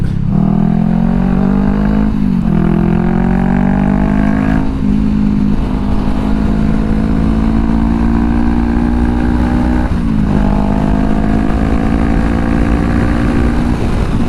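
A Honda CBR500R motorcycle rides through city streets, its engine revving up steadily through the gears with brief dips at each shift, loud and continuous close to the rider.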